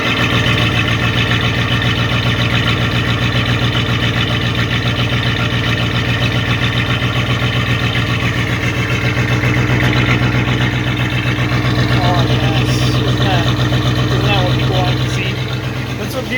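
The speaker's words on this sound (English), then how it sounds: "This is a cold start." Car engine idling right after a cold start, a steady close exhaust drone with even pulsing throughout, and a voice talking over it.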